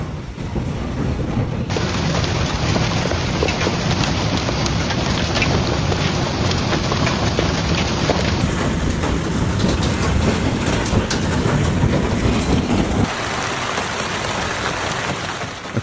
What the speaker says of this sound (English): residents captured dramatic footage as hail, violent winds, and lightning swept through neighborhoods